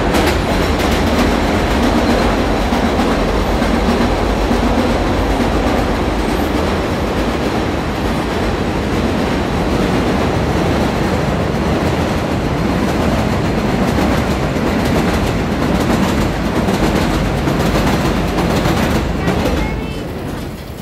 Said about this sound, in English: Look, the train's coming.